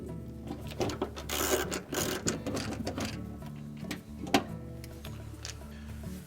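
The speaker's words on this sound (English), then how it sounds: "reinstall the 2¼ inch screws" Screws being driven back into a Frigidaire refrigerator's evaporator fan cover, a run of close mechanical ratcheting and whirring clicks with brief pauses and a sharper knock near the end, no talking.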